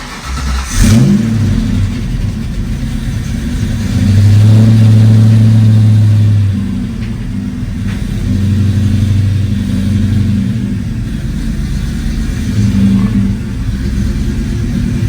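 A 1990 Ford Mustang GT pulls away after sitting for a while, its mid-pitched V8 engine droning steadily and close, with rising revs and shifts across the whole stretch.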